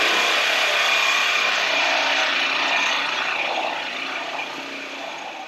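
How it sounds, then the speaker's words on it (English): A reciprocating saw with a short blade cuts through metal in the engine bay of a Jeep CJ7, a continuous harsh buzzing rasp that stays loud and close, then eases slightly toward the end. "one of these little sawzall, especially in the engine bay, because depending on your blade size, you can destroy whatever's in front of it"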